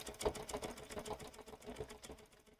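Bernina sewing machine fitted with a #7 tailor tack foot stitching orange thread onto red fabric, a steady rapid mechanical chatter of needle strokes running continuously and fairly quietly throughout.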